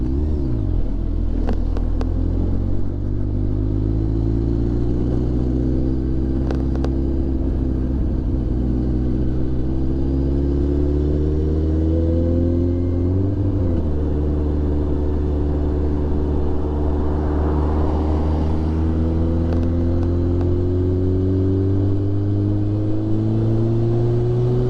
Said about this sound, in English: That's an old school car right there.